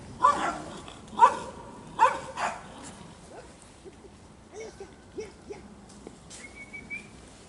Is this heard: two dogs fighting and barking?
yes